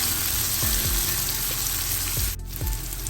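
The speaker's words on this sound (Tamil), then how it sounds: "கருவேப்பிலை கொஞ்சம் சேர்ப்போம். இது நல்லா வதங்கட்டும்." Curry leaves crackle and sizzle in hot oil for a Tamil broad bean and peanut stir-fry, a steady loud frying hiss broken by a few low thuds of the pan, with no talking.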